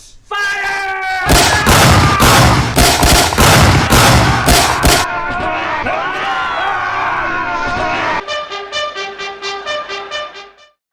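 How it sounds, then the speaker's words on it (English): A rapid volley of loud booming blasts, cannons firing from a boat in quick succession, followed by a sparser series of fading reports. "Prepare the cannons to fire! Prepare cannons! Fire!"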